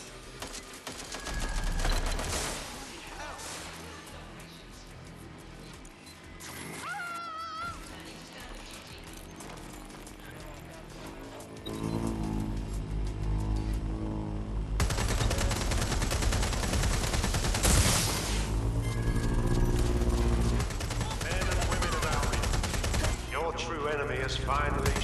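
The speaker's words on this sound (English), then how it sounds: "Someone's shooting." Gunfire in the video game Watch Dogs: Legion, with bursts of automatic shots and single cracks set against a loud game soundtrack, explosions and voices.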